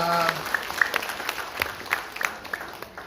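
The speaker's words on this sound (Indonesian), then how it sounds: "Oke, tepuk tangan buat Anda semua." Audience applause at an Indonesian motivational seminar on traits of successful people, a scattered, fairly close patter of claps that sits under an ongoing background voice throughout.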